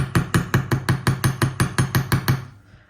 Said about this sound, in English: I like to give the loop a slight hammer just to strengthen it